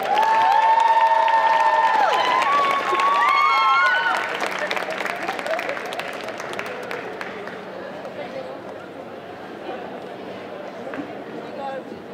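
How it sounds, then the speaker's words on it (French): An audience at a cosplay contest prize-giving, Saint-Étienne Japan Manga Wave 2024, applauds and cheers loudly for a few seconds, then the noise thins to scattered claps and crowd murmur, with whistles and shouts early on. "je vous invite à monter sur scène sous vos acclamations"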